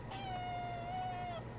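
A house cat lets out a single drawn-out meow, clear and fairly close, over a low steady background hum, with no talking during the call.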